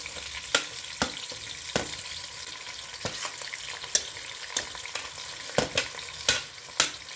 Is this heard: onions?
yes